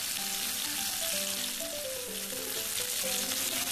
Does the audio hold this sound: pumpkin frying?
yes